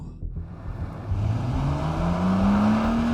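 A 2026 Porsche 911 Turbo S launches hard from a standstill, its engine note rising in one steady, loud climb as the car pulls away under full acceleration, heard from inside the cabin with no talking.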